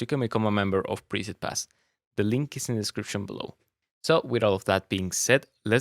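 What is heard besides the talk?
No everyday noises stand out.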